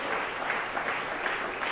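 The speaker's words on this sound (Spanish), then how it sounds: "Hay un aplauso para el Señor." A congregation claps steadily, a dense, even wash of applause with no voices standing out.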